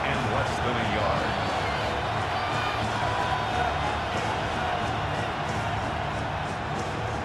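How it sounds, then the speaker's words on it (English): A stadium crowd in a Madden NFL 26 simulation of a Seahawks versus Titans preseason game, made loud to force a false start on third and inches, gives off a constant, dense roar that holds steady throughout. "This crowd, they're trying to force a false start."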